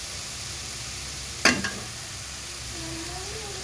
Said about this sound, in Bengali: এই যে মশলাটা কষাচ্ছি, আদা বাটা, রসুন বাটা, জিরা বাটা, হলুদ মরিচ, লবণ, পেঁয়াজ, টমেটো সব দিয়ে